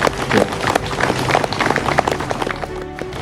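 A gathered crowd at a welcoming ceremony for indigenous community leaders in Papua claps loudly for Pak Yafet, with brisk, uneven clapping close by and faint voices mixed in.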